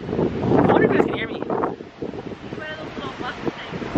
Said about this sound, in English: Wow, is it ever windy.